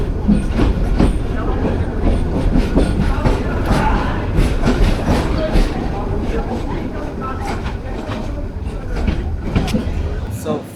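A train on the Dhaka to Chittagong line rolls steadily, giving a loud, continuous rumble with the clickety-clack of the carriages and faint voices in the background.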